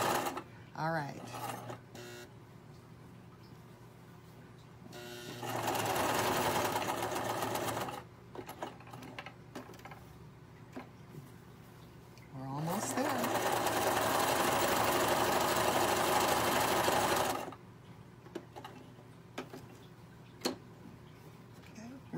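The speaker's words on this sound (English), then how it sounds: "So I'm going to put my needle down, lift my presser foot, flatten it out under there, and then continue on." A sewing machine stitches a fabric drawstring gift bag in two sustained whirring bursts, separated and surrounded by quieter handling clicks and someone talking.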